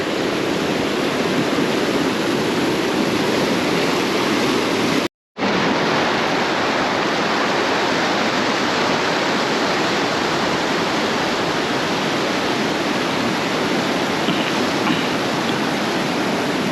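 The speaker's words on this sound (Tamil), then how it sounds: "இங்கே பாருங்கள் எவ்வளோ தண்ணி வேஸ்ட்டாக போயிட்டே இருக்குது" Water rushing through a broken check dam on a river, a loud, unbroken roar of churning flow, constant and close, with one brief cut to silence partway through and no talking.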